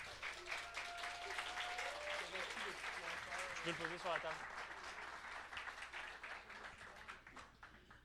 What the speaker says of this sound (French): Encore merci, vous pouvez l'applaudir.